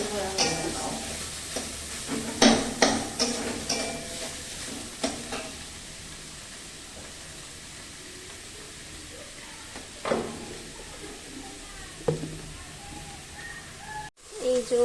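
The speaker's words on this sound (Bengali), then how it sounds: "এখন শাক ভাজা হচ্ছে" Shak greens frying in a pan, a soft steady sizzle with occasional stirring scrapes and clatters, moderately close, while a person talks over parts of it.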